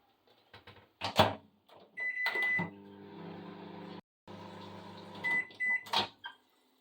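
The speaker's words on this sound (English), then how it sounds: "Chuck it in the microwave. I'm just trying to melt it, liquefy it basically." An appliance hums steadily in a low drone, broken by a short pause, with clicks and door clunks at the start and end and a few electronic beeps.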